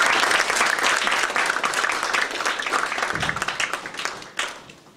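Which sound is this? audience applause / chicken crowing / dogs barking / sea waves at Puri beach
audience applause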